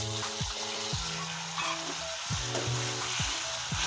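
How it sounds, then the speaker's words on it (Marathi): Onion and tomato frying together in a pan for Khandeshi shev bhaji, a continuous hissing sizzle close by with faint background music underneath. "टोमॅटो आणि कांदा छान फ्राय होऊ द्यायचा आहे आपल्याला।"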